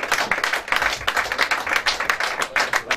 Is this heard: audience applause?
yes